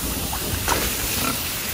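Pigs grunt faintly on a farm during weighing, a few short snorts almost buried under a loud, steady, noisy background.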